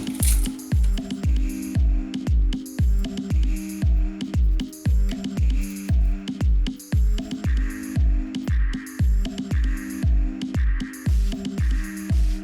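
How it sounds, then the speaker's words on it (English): A knife chops half an onion into small chunks on a cutting board, a steady run of crisp, close, evenly spaced cuts for the whole stretch. "I'm going to use about half an onion, and I'm just going to cut it up into small"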